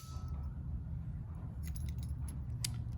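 Ignition keys for a Mercedes W123 300D jangling, light metallic clinks that start sparse and cluster toward the end, close and faint over a low steady background hum.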